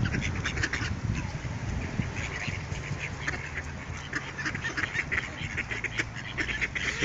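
Wild ducks quack and call repeatedly as they are hand-fed in a park beside a bench, with geese-like honks and crows mixed in, a busy, close chorus of birds over outdoor ambience.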